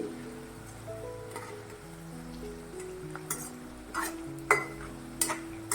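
Cabbage pakoda frying in hot oil in a pan over a medium flame, a steady sizzle with occasional scraping and clinking of a spoon as the fritters are gently turned, close and fairly loud.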